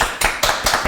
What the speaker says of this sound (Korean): 저희 박수 그래도 훈훈하게